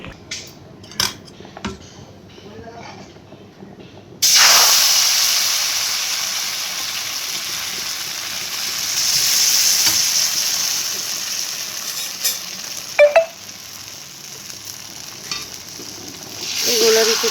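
Roti batter hits a hot pan and sizzles loudly, a steady frying hiss that holds for several seconds with a few clinks of utensils against the pan.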